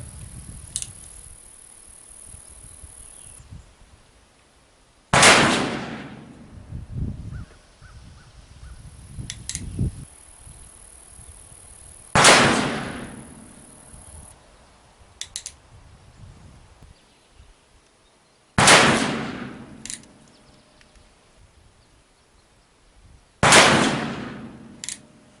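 Five loud, sharp shots from an Uberti Walker black powder revolver fired at about 50 yards, spaced several seconds apart, each with a booming report and a lingering tail.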